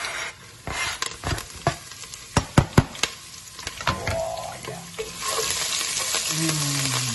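Hard herbs dropped into a pan of toasted brown garlic for patatas bravas, with sharp stirring and scraping clicks over a steady sizzle of frying that swells louder in the second half, no voices.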